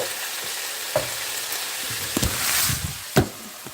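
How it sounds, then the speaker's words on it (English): Classico Italian sausage, peppers and onion pasta sauce sizzles in a hot pan, a close crackling fry with a few stirring knocks and scrapes. "I'm going to add a little bit of this pasta sauce"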